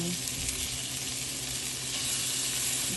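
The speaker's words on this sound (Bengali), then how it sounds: "মাছটা ভেজে নেবো ঠিক আছে ভেজে করছি" Prawns and fish sizzle steadily in hot oil in a pan, a continuous close frying hiss with faint stirring, and no talk.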